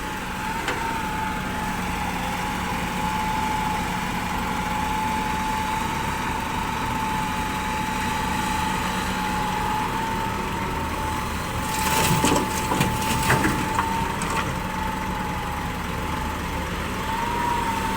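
A Hitachi ZX200 excavator digging a pond runs steadily throughout, its engine a continuous drone with a sustained whine, and a short burst of rattling, scraping impacts from the bucket arrives partway through.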